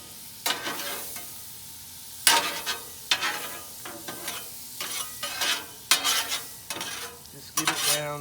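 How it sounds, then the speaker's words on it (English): Butter packs melt and sizzle on a Blackstone flat-top griddle outdoors, with repeated scraping and stirring strokes over a steady frying hiss. "My butter's starting to melt."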